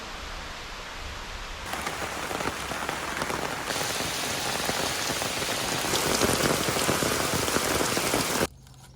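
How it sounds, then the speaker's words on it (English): Steady rain patters densely on a surface, a continuous close hiss that grows slightly heavier before cutting off abruptly. "it's raining again"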